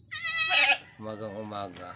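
A goat, a mother that has just given birth, bleats once loudly and close, a high wavering cry, followed immediately by a person speaking a single word.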